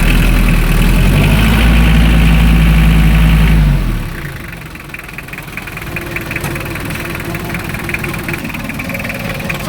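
A Japan surplus Mitsubishi Canter truck's 4M42 diesel engine runs loud and heavy for several seconds, then drops off and settles into a quieter, steady idle with a light rattling clatter.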